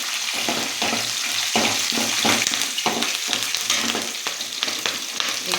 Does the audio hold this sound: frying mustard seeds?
yes